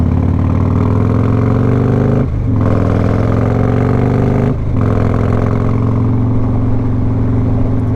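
A cammed Harley-Davidson Road Glide motorcycle engine runs loud and close with a steady, heavy low rumble, briefly dipping twice as the throttle eases before pulling again.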